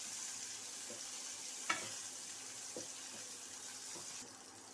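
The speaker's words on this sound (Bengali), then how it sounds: "দেখো পটলগুলো ভাজা চলছে" Pointed gourd (potol) pieces frying in a pan with a little turmeric and salt give a soft, steady sizzle with a few small pops and crackles, close by and quiet, with no talking.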